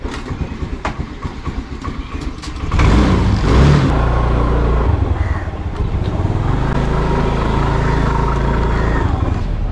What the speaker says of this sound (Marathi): गाडी पहिली किकने चालू करायची.